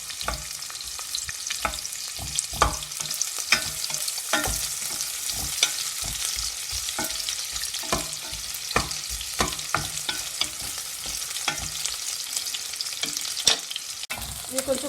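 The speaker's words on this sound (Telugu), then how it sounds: "ఇప్పుడు ఇందులో ఆనియన్స్ వేసి లైట్ బ్రౌన్ కలర్ వచ్చే వరకు ఫ్రై చేసుకున్నాము" Onions frying in hot oil in a pan until light brown for a spicy gongura pulao, a steady close sizzle broken by frequent scraping stirs, with no talking.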